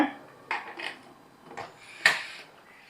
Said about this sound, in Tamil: ஒரு வாட்டி ஜென்டில் அப்படி கலந்து விட்டுட்டு உடனே குக்கர் மூடி போட்டுருங்க